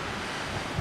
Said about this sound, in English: as you can probably hear, the wind is whipping up pretty good